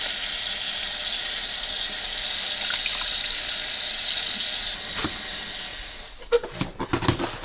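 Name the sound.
water squeezed and drained from pickled mustard greens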